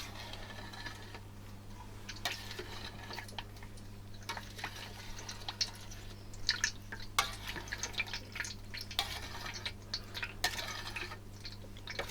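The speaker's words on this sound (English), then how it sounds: "So let's just give this a little stir." Milk curds for mozzarella are stirred in a Ninja Foodi pot, giving scattered wet drips and light clicks of a utensil against the pot over a steady low hum.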